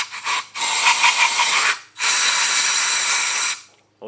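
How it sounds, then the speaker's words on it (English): Compressed air blasts into a brake master cylinder during a rebuild, a short puff followed by two long loud hissing bursts with a brief pause between, close up. "Blow some compressed air in here."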